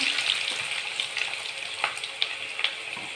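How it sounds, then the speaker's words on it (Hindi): Eggs frying in hot oil in a kadai, a continuous close sizzle with a few sharp crackles and spatters, no voices. "तेल गरम हो गला अंडा पकईदे"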